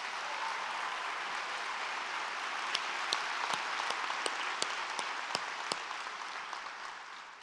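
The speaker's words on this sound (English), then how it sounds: "Let's give her a big round of applause." A large audience at a city State of the City address claps in a sustained, dense wash of applause, with a few sharper individual claps standing out midway before it slowly tapers.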